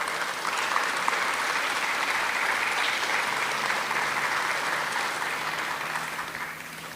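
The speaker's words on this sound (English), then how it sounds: "Please give them a round of applause." Audience at a Fort Worth community vigil for Texas flood victims breaking into sustained applause, a dense wash of clapping that holds steady and tapers slightly at the end.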